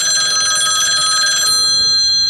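A payphone rings with a bright, continuous electric bell trill that stays loud and close, then cuts off abruptly partway through.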